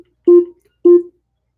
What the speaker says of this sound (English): it's ringing. I'll get my phone.